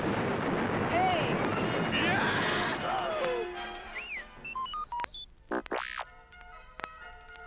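Laser blasts fire over a roar of explosive rumbling, followed by a string of high zapping, pitch-sweeping shots that ring out more clearly as the noise drops.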